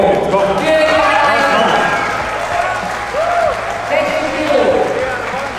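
Crowd applause and cheering at a 400-kilo deadlift event at a strongman competition, a loud, swelling wash of clapping with a voice speaking over it throughout.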